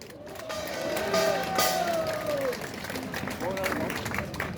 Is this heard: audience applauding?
yes